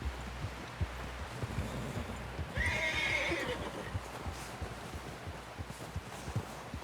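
A horse whinnies once, mid-clip, in Red Dead Redemption 2, over a steady bed of hoof clip-clop and low ambient rumble.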